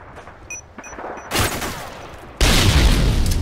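Video game gunfire during a Search and Destroy match: light scattered shots first, then a loud burst, and finally a sustained roaring volley of rapid fire, up close and dominating the sound.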